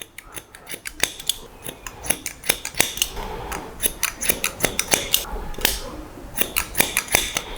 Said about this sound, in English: I'm going to start on the corner here and work vertical and just cut to match the back.